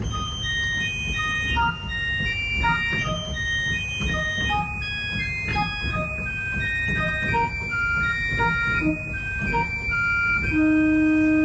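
High, thin piccolo-like pipe organ tones from a 2 foot stop on the Swell, playing a quick run of separate whistling notes over a low room rumble and ending on a sustained held chord.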